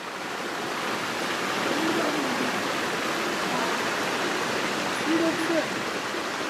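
Steady, full rush of a mountain stream in the Andes fills the whole clip, even and continuous like a brisk stream close by, with no voices.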